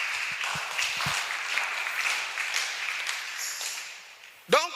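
A church congregation applauds during a Sunday service, steady clapping and cheering filling the room for several seconds before a louder burst near the end.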